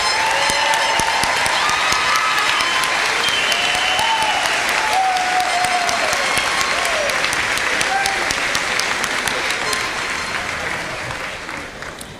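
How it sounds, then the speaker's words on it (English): Graduation ceremony crowd applauding at a high school commencement: sustained, dense clapping from a large audience with scattered cheers, loud and steady before tapering slightly at the end. "One more round of applause for you."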